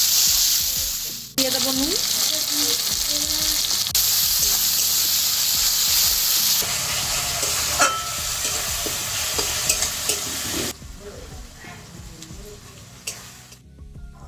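Chopped tomatoes hit a pan of onion and ginger for a small fish curry, bursting into a loud, hissing sizzle with repeated stirring scrapes and clicks; a voice speaks briefly near the start.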